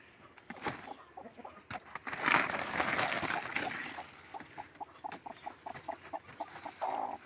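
A chicken clucks in short repeated bursts close by outdoors, the rhythmic clucks coming mostly in the second half amid rustling and other farmyard noise.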